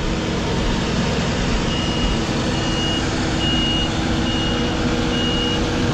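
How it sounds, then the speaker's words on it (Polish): A Claas Tucano 420 combine harvester backs up, its reversing alarm giving faint, evenly spaced beeps that are partly buried under a loud, steady engine roar. "Teraz pokazuję mu, jak się cofa do tyłu."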